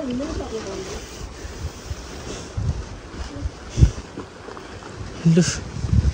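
Cold wind rushes and buffets against the microphone in uneven gusts on a mountain trail in Ramechhap, Nepal, with a low rumbling roar and occasional brief voices in the background.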